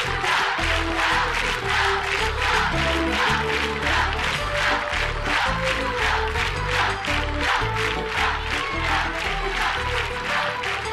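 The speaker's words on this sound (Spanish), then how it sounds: "hoy quiero que recibamos con un gran, cariñoso y fuerte aplauso a Curro" A studio audience on the Spanish TV game show Un, dos, tres claps and cheers for Curro, steady and loud throughout, with dense broadband clapping over low music tones beneath.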